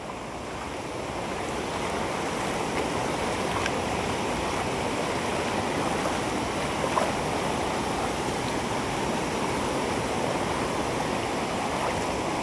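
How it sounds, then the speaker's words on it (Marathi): Water pours over the spillway of Mor Gavhan dam at night, making a loud, unbroken broadband roar that rises in the first second and then holds steady throughout. "पाण्याचा बघा आवाज येत असेल"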